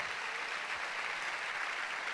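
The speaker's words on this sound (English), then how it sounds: "Somebody give God a big clap" A church congregation claps for God during a sermon, a faint, steady patter of many hands heard from a distance, continuous and even with no voices over it.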